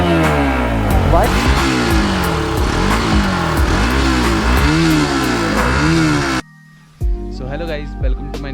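Bajaj Pulsar RS200 motorcycle with a modified exhaust revs hard at full throttle, a loud, rising and falling engine roar with repeated surges that cuts off abruptly near the end, followed by a brief quieter burst.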